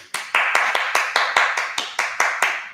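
Hands clap about a dozen times in a quick, steady rhythm, each clap sharp and close.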